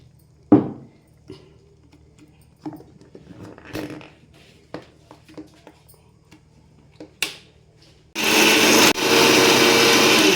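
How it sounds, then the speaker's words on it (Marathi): A mixer grinder whirs loudly into action grinding chillies, cumin and peppercorns for a Goan kingfish curry, after a stretch of faint clicks and handling knocks in a quiet kitchen. "आतां वांटून दाखयता तुमकां"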